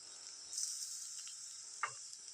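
Bread halwa being stirred in a pan after milk and sugar go in, giving a steady faint sizzle with a brief scrape of the spoon near the end.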